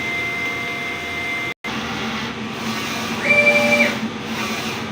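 DTF printer running a nozzle test after a head clean, a steady mechanical hum with a brief dropout and a higher whining tone rising for about a second, no voices.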